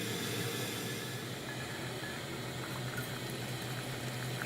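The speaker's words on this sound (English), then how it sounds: "Let's get a little bit of water boiling here" Water brought to a boil in a pot on a stove gives a steady, rushing bubbling hiss that stays even and continuous throughout, with no voices.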